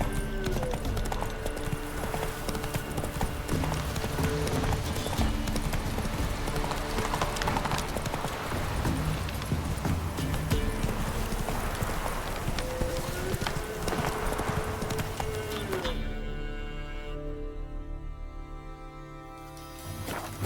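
Roach, a horse in The Witcher 3, gallops in a steady rapid clip-clop of hooves for most of the stretch over game ambience, then the hoofbeats fade as a tonal musical passage takes over near the end.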